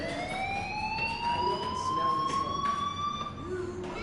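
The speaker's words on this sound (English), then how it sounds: "do you hear that fire alarm? That means you should be outside." Fire alarm wailing inside the video game Life Is Strange, a steady rising electronic siren tone with strong harmonics that sweeps slowly upward and holds, sounding continuously and fairly loud across the whole stretch.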